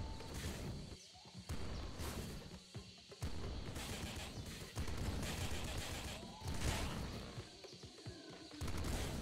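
Enemies in the video game Nuclear Throne let off dense, rapid volleys of gunfire, a busy crackling barrage that pauses briefly now and then before starting again, with no one speaking.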